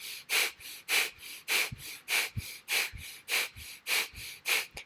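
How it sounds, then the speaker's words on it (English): Forceful rhythmic exhalations from a yoga breathing exercise, about ten sharp pumping breaths in steady quick succession, close and clear with no talking. "Feel the exhalations really starting to contract your navel, pumping out that breath."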